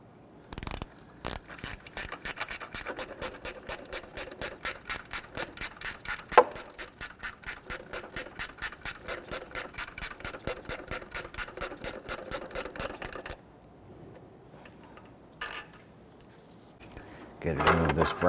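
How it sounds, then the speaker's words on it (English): A 14mm gear wrench ratchets engine bracket bolts on a 1992-1996 Toyota Camry 2.2L four-cylinder, a close, crisp, rapid clicking in a steady even rhythm for about ten seconds, then stopping, followed by quieter handling noises. "Use our 14mm gear wrench on these lower bolts."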